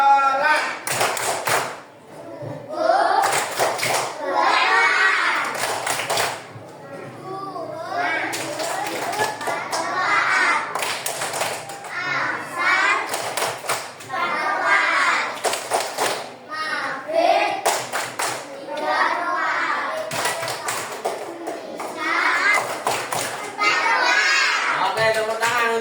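A class of second-grade children performs the rhythmic 'tepuk sholat' clapping chant in an Islamic religious lesson, bursts of hand claps recurring in steady groups alongside their chanting voices, loud and close throughout.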